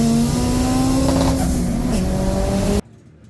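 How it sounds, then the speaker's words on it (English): Front-wheel-drive drag race cars accelerate side by side at a Doorslammers event, their engines screaming loud and close with a rising whine through the gears before the sound cuts off abruptly. "Both cars leave together. Alan's got his second gear"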